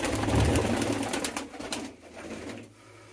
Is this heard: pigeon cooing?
yes